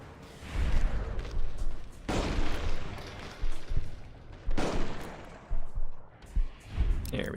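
Gunfire in Fallout: New Vegas, a series of loud booming shots and bursts at irregular intervals, with gameplay clatter between the blasts.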